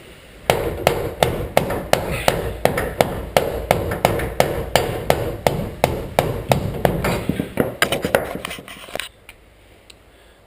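A hammer taps a grease seal into a vintage Mopar axle housing, about twenty sharp, evenly spaced metallic blows up close, speeding into a quick flurry of lighter taps before falling silent.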